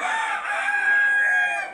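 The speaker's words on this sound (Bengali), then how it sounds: "এখানে একটা মোরগ, একটা মুরগি, এটা আছে লাল, এরাও অনেক ভালো জাতের।" A hill-breed rooster crows once in a single long, loud call that rises and holds before trailing off, heard close and alone.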